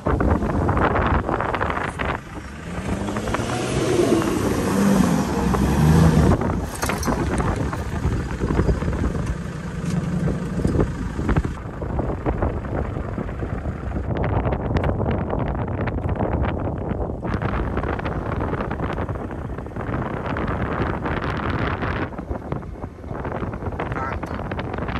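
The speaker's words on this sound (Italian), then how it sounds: "Tanto vento." Strong desert wind in the Rub' al Khali dunes buffets the microphone in loud, gusty roars throughout, with a voice speaking now and then beneath the rushing noise.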